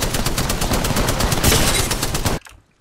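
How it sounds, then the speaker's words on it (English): Rapid automatic gunfire in the video game Apex Legends rattles loudly and continuously for a couple of seconds, dense and close, then stops abruptly into near quiet. "Shots."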